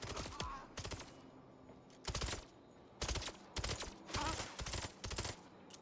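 Guns in the Mindseye video game fire together in rapid bursts, several loud clustered volleys of about half a second each separated by short pauses, close and punchy.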